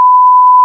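A single steady censor bleep, a pure tone held loud and unbroken for under a second to mask a name, standing alone with no talk over it.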